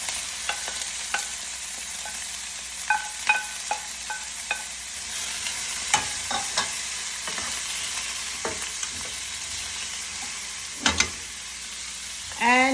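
Garlic and ginger softened over medium heat in a pan, with onion going in: a broad, even sizzle carrying irregular spoon clicks and scrapes, and a brief louder rustle near the end, no speech.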